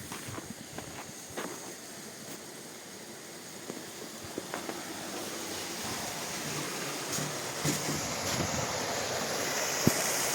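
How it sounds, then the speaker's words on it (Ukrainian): Steady rushing water from a small waterfall in winter thaw pours continuously at a soft distance, a broad hiss mixed with light wind noise. "Подивимось на невеличкий водоспад."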